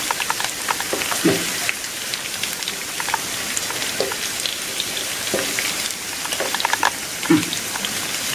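Small fish and curry leaves fry in hot oil in a Kerala-style pepper fry. A continuous close sizzle is broken by scattered crackles and pops.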